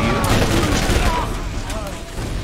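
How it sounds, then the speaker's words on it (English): Explosions and gunfire in the video game Borderlands, a dense, loud, continuous barrage of booms and crackling blasts with mechanical clatter, filling the whole stretch without pause. "I'm just gonna explode this shit."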